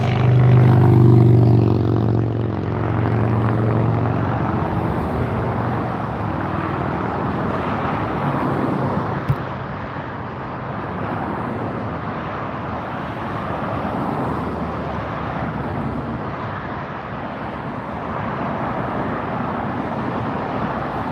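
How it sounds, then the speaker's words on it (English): A Delta Airlines Airbus A319 arriving from Portland roars steadily in a broad, sustained jet rumble near the LAX runway, loudest at the start and easing gradually as it lands. "This is Delta Airlines arriving from Portland, flight 2766 and Airbus"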